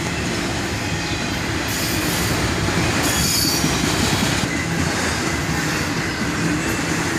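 A long freight train led by an SD70MAC locomotive, with CP and Union Pacific railcars, rolls steadily past at close range, a continuous loud roar of railcars with wheel squeal and rumbling clatter that persists without a break.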